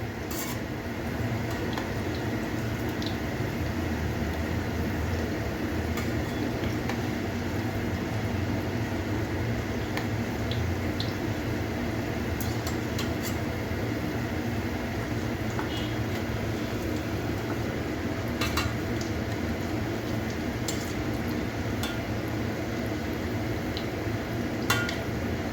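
Chicken nuggets fry in oil over a low flame and are flipped over, giving a steady, even sizzle throughout with a few faint clinks of a utensil and no talking.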